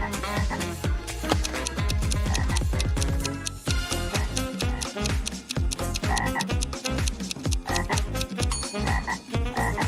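Frogs croaking in a dense, loud chorus of rapid repeated calls, overlapping rhythmic pulses that continue without pause and sound close.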